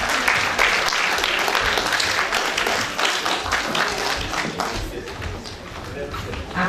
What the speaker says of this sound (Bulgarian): Заповядайте и силни аплодисменти за танцов състав Фолклорика.